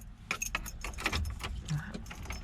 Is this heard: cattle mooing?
no